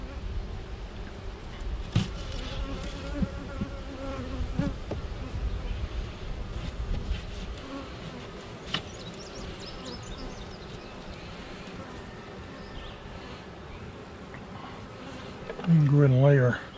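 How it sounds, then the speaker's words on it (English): Honeybees buzz steadily around an open backyard hive during a garden check, a dense, continuous hum close by with handling noises and a brief voice near the end. "Let those bees start working them."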